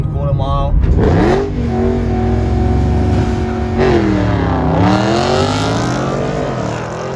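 A V8 Audi RS5 revs hard and accelerates, its loud engine note rising in pitch, dipping briefly, then climbing again. The sound is close and continuous and runs alone without talk.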